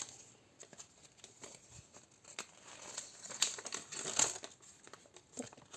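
Plastic toy packaging being opened and crinkled by hand, a Barbie doll among the contents, with scattered crackles and short tearing bursts that are close and fairly quiet, a couple of sharper crinkles midway, and no talking.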